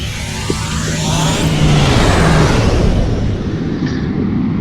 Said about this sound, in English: I might hit the quantum slipstream drive to get us there all the quicker